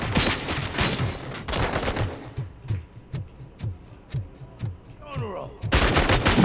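Rapid volleys of gunfire crack out in bursts, close and loud, with a steady run of single shots through the middle and heavy clusters at the start and end.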